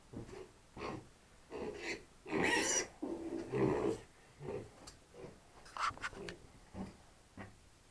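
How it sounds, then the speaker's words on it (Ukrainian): Five-week-old piglets grunt and snort in a series of short bursts, close by, with some louder squeals and wheezy breaths mixed in. "це 5 неділь такі поросятка"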